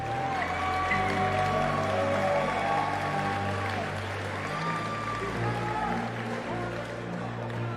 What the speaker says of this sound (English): round of applause for your Grand Blue EVO 2022